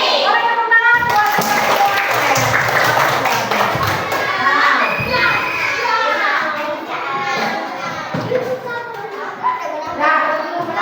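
Children in a primary-school coding and AI lesson clapping their hands in class, loud and near, mixed with children's voices, thumps and chatter, with a teacher's voice heard among them.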